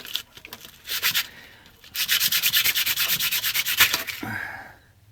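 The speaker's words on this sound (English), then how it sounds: "Next, sandpaper." Rubber being sanded by hand with sandpaper, a quick series of close, rhythmic rasping strokes, a short burst and then a longer even run, ending in a brief scrape.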